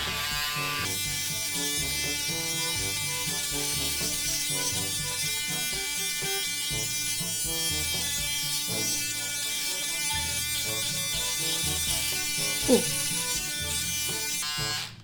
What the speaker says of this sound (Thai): เดี๋ยวฝั่งนี้ผมจะโกนเป็นแห้ง